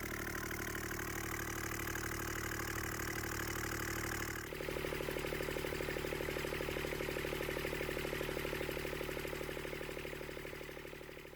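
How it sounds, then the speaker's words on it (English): Small Kubota diesel engine with a freshly rebuilt fuel injection pump, idling steadily with an even, rapid chugging beat that shifts slightly in tone partway through and stays loud and close, no talk. "it's definitely going to be a good runner. I could listen to this thing all day."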